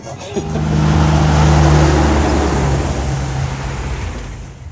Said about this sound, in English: The huge trucks make it clear how important road transport is across the American continent.